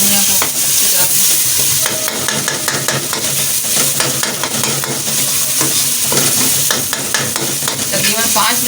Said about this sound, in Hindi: तकरीबन 5 मिनट तक मसाले को भुने ताकि टमाटर सारी चीज़ें इसमें ऐड हो जाए, अच्छा मसाला बन जाए।